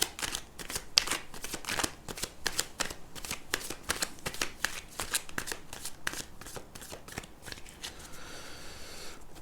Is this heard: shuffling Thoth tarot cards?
yes